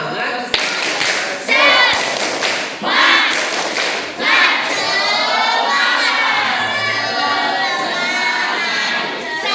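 A room of schoolchildren at a Maulid Nabi gathering erupts in loud shouted chanting and bursts of rhythmic clapping, close and energetic, with voices rising and falling over thumping claps throughout.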